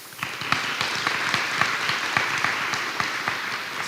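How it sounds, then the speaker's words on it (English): A school board meeting audience applauds the football coach after a championship season, steady clapping from a room full of people that holds at an even level throughout. "give him a round of applause"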